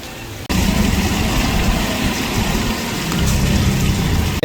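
Heavy steady rain pours down with a dense rushing wash of running water, starting abruptly and continuing loud and even, with no voices.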